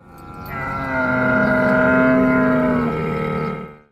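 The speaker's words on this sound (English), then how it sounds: "Camel" One long, loud groaning bellow from a large animal, steady and droning for several seconds, close by, then cutting off.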